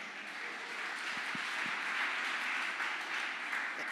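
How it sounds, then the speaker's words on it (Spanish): A church congregation applauds steadily, a dense wash of many hands clapping at moderate distance for a few seconds, with a couple of faint low thumps. "Dale un aplauso al Señor"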